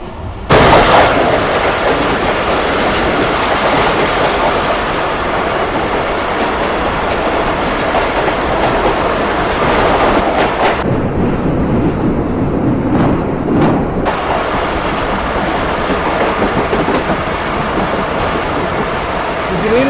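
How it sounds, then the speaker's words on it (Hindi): A passenger train runs loud and close as it enters Kochi, with a continuous heavy roar and rhythmic clatter of wheels on rails throughout, broken briefly by a dip partway through. "3 बजे ट्रेन जो है हमारी वो कोची शहर में एंटर हो चुकी है"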